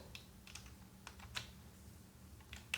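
Fingers type CSS code on a computer keyboard, producing a handful of light, close key clicks spaced irregularly over a faint background hum.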